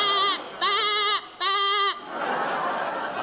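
Three loud, close goat bleats come in quick succession on a comedy stage show, followed by a wash of crowd noise.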